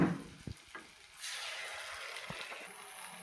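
Potatoes and green chillies fry and are stirred in a pan with ground spinach, a soft sizzle with a few stirring knocks that rises into a steady hiss.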